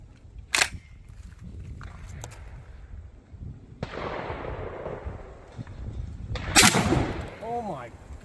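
A 12 gauge Browning A5 semi-auto shotgun fires Remington Hypersonic 3-inch shells outdoors. There are two sharp, loud blasts several seconds apart, with a low outdoor rumble between them and a voice after the second shot.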